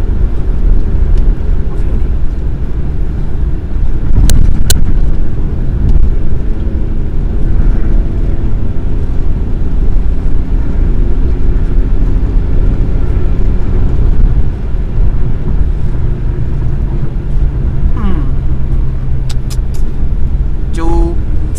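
A 2002 Perodua Kancil with an 850cc engine accelerating at half throttle, a steady droning engine hum with rising tones heard from inside the cabin, with someone talking over it.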